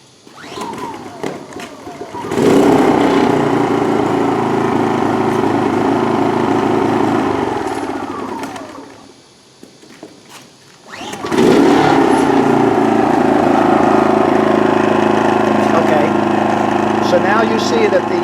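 A Genmax GM3300i inverter generator runs loudly nearby, cuts out briefly, then restarts quickly and settles back into a steady drone with no talk over it.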